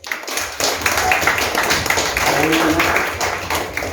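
A church congregation at a Sunday service clapping in praise, steady loud rhythmic handclaps from many people filling an indoor hall, with voices mixed in underneath.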